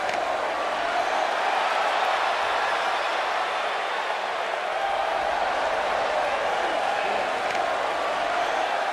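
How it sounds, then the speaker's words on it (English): Crowd in a wrestling arena roaring in a constant, dense wash of cheering and noise, loud and unbroken throughout, with no distinct voice standing out. "it sounds to me like this crowd already picked the one who they want to win this match"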